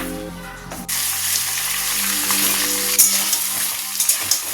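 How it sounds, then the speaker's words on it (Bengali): Hard vegetables for Bengali shukto fry in hot oil after the bori, bitter gourd and eggplant, giving a steady, close sizzle with a few sharper pops and stirring clatters. "শুক্তোর জন্য সবজিগুলো ভেজে নিচ্ছি আগে একটু।"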